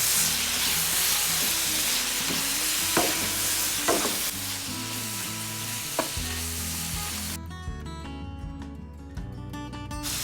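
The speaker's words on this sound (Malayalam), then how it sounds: "ഇനി എല്ലാം കൂടെ നല്ലതായിട്ട് മിക്സ് ചെയ്യാം." Beef liver fries in a pan while spices are stirred in: a constant sizzle with sharp spoon clicks and scrapes against the pan. Music plays in the background, and no one speaks.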